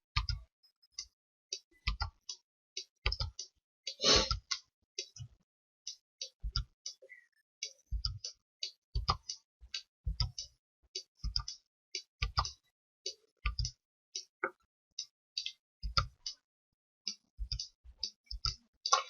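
A computer mouse clicks steadily, sharp close clicks in irregular single and double taps spread over about twenty seconds, with quiet gaps between and no talking.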